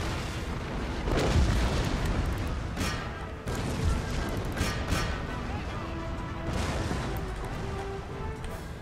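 Howitzer artillery fire in the video game Empire Total War: dull, rumbling booms roll in irregularly through a dense battle din, with heavier swells around several moments, all under continuous game noise.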